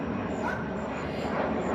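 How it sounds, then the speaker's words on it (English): A fixed-wing airplane passing overhead, a steady broadband engine drone that fills the whole moment at moderate loudness without rising or fading, with no talking. "it's an airplane."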